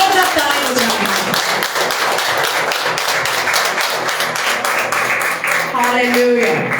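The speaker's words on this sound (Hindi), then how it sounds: "हम प्रभु के लिए जोरदार ताली बजाते हैं।" A church congregation claps loudly in rapid, dense rhythm during worship, with voices mixed in over the sustained clapping.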